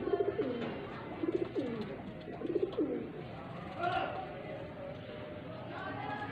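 A golden female pigeon gives several soft, close coos in short rhythmic bursts while someone speaks nearby.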